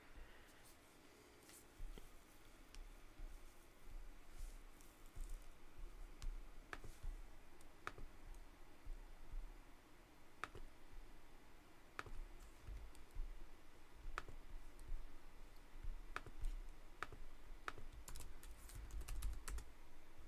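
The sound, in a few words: computer mouse clicks and keyboard typing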